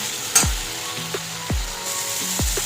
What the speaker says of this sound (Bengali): ক্যাপসিকাম দিয়ে ভালো করে কষে নিয়েছি দেখুন মশলার থেকে তেল ছেড়ে দিয়েছে